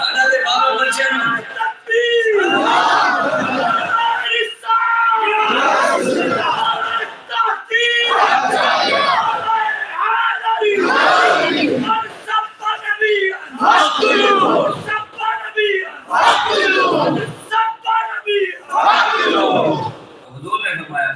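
A large crowd at a Tajdar-e-Khatm-e-Nabuwat religious conference chants a slogan in repeated loud call-and-response bursts, roughly every two seconds, with brief pauses between the shouted phrases.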